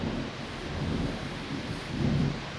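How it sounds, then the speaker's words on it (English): Steady rain hisses throughout while low thunder rumbles roll in and out, swelling loudest near the end, heard from inside a metal workshop. "while it rains, a metal workshop in a thunderstorm is actually kind of soothing"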